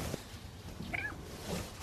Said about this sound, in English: that's a cat meowing in the background